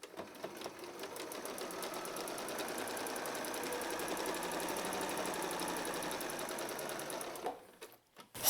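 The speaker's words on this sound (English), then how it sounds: "So we're stitching around the perimeter." A sewing machine runs steadily, stitching around the perimeter of a purse made from blue jeans, a fast, even close-up whir lasting several seconds before stopping, with no talking.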